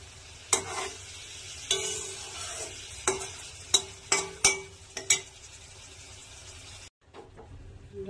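Egg curry (dimer kalia) frying and being stirred in a pan, with a steady sizzle broken by several sharp scraping strokes of a spatula, fairly close, then a brief cutoff near the end.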